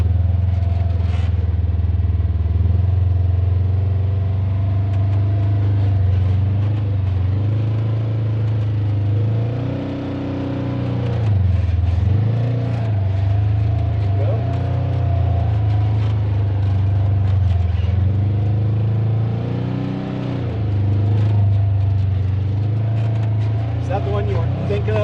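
Off-road vehicle grinding slowly along the rocky, rutted Broken Arrow Trail in Arizona, a loud continuous engine drone rising and falling with strain, with people talking inside over it.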